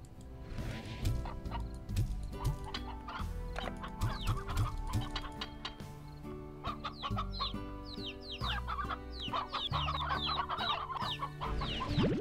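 Chickens and little chicks cluck steadily inside the Slime Rancher video game, a dense overlapping chorus of short calls set over a layered, looping game soundtrack, with rooster-like squawks rising near the end.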